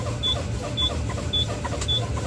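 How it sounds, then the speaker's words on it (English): Emergency brake pop-out valves on a truck being checked while the brakes are fanned, heard as repeated sharp air hisses and clicks over a steady engine idle, close by. "I'm going to continue fanning my brakes down to 45 to 20, and both valves should pop out"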